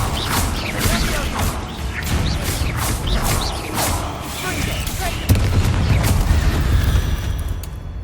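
Spell blasts from Incendio and Confringo in the Hogwarts Legacy video game, rapid crackling bursts and booms one after another over a busy combat backdrop, with game voices mixed in.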